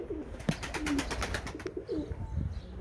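Tumbler pigeons coo softly in a few low, rounded calls against a quiet background with light fluttering and rustling.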